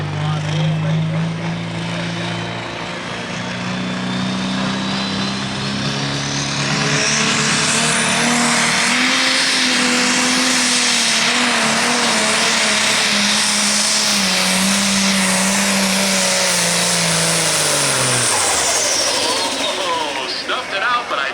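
A diesel pulling tractor in the 8,500 lb class roars loudly at a tractor pull, its engine note climbing and then sagging as it loses RPM down the track, while an announcer talks over it.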